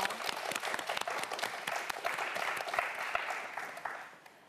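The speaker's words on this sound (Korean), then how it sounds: "역시 마지막으로 박수 한번 부탁드립니다" A studio audience at a student quiz show gives a final round of applause, dense clapping with crisp individual hits that holds steady, then softens and trails away at the close.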